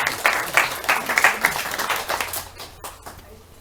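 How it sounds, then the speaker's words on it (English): An audience at a book launch in Dalston gives a lively round of applause, strong at first and then thinning out into a few scattered claps. "Let's have a round of applause for both."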